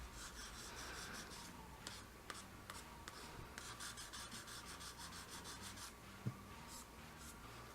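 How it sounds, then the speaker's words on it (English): A 400-grit sanding block rubs paint off a surface with close, steady scratchy strokes, quiet throughout, with one small knock near the end. "we're going to take our sanding block here, which is a 400 grit on this side"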